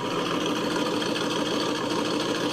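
A car engine idles loud and close after a cold start, its throaty exhaust rumbling continuously and evenly with no breaks.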